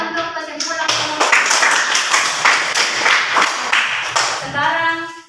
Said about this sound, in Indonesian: Tepuk tangan untuk kesimpulan kelompok.